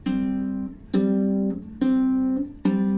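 Four plucked ukulele notes in low G tuning, each struck sharply then ringing and fading, evenly spaced and close, with a slight pitch change within some notes from pull-offs and hammer-ons.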